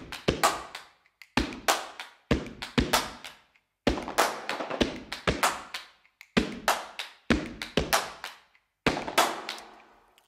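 Layered studio hand claps from a clap plugin, with automated pitch and spread, play a punchy rhythmic groove of close, sharp clap bursts and short pauses between phrases.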